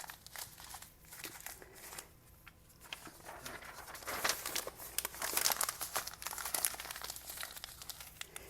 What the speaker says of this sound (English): I'm just going to wad up some paper until I get about the size of a fist.